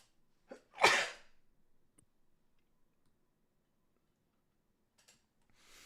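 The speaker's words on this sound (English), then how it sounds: "I am like fighting back a sneeze here" One sharp, close sneeze bursts out early, followed by near silence with faint ticking clicks and a soft noise at the end.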